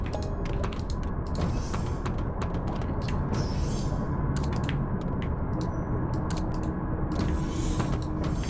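A locking hatch in the submarine game Barotrauma closes with creaking, grinding mechanical noise over a constant dense hum. Sharp clicks and ratchet-like ticks sound repeatedly throughout.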